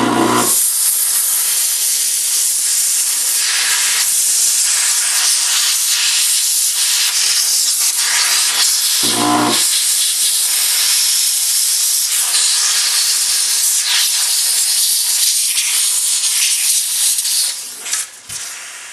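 A steam cleaner blasting a firearm to clean its metal and wooden stock, a loud continuous close hiss with two brief pauses where the jet stops and restarts, then tapering off at the end.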